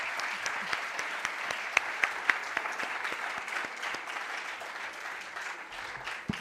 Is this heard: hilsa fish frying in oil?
no